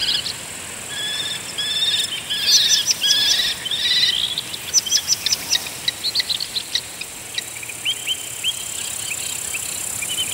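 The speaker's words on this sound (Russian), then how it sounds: "Их крики переплетаются со щебетом зеленых и золотистых щурок, песнями и танцами тугайных соловьев" Green and golden bee-eaters and tugai nightingales call and sing in Shirvan National Park, bright chirps and warbled phrases coming in bursts over a soft bed of insect trilling, fairly close, no voices.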